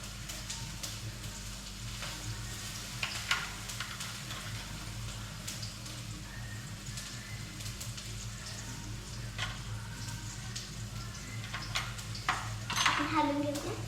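Ginger-garlic paste, chilli, asafoetida and turmeric sizzle softly in a pan for vada pav filling, with steady frying crackle and occasional scrapes and clinks of a spoon stirring against the metal.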